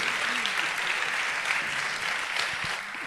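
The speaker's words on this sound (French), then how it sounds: "Vous pouvez les applaudir très fort." An audience in a theatre claps steadily after a talk, a dense, even round of applause that continues for several seconds with no speech.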